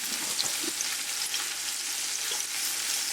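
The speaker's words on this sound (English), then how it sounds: "to get the garlic kind of frying up a bit" Garlic frying and crisping in a pan for ramen, a dense, steady hiss of close sizzling with a few faint knocks, and no one speaking.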